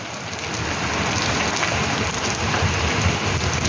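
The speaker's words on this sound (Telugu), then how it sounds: "ఇవాళ చాలా గట్టిగా రెయిన్ పడుతుంది" Heavy rain pours down steadily, a dense, loud and continuous hiss of drops hitting surfaces close by, with no voices over it.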